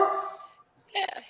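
A dog barks nearby in a home, one short bark followed by a second bark after a brief pause, with voices around it.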